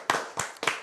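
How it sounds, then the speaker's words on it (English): Three sharp hand claps in a podcast studio, evenly spaced and close, heard alone with nothing else around them. "A round of applause for us, please."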